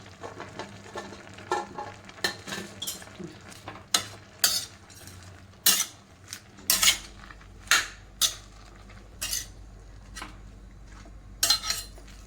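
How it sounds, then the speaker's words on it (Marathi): Onion and beetroot tipped into a cooking pot of tomatoes for homemade ketchup, a series of sharp clattering impacts and utensil clinks against the pot over a faint background, close and without talk. "मिरे आणि लवंग टाकूया कांदा टाकूया त्याच्यानंतर हे बीट टाकूया"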